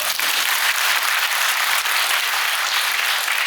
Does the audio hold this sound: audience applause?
yes